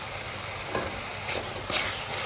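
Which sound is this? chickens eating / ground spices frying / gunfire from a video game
ground spices frying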